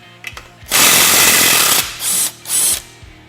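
A power tool, likely an impact gun, spins off the lower ball joint nut on a Can-Am Maverick 1000R, a loud close buzzing burst followed by two shorter pulses.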